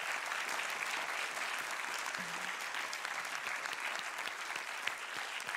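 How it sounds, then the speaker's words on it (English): A dense, steady wash of audience applause for an award winner at a student awards ceremony, many hands clapping at once at an even level throughout, with no voices standing out. "Please, a final applause for Vera."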